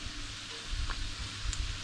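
Homemade Polish doughnuts (pączki) frying in hot oil give a steady, soft crackling sizzle with slight swells in intensity, close and unbroken, with no voices.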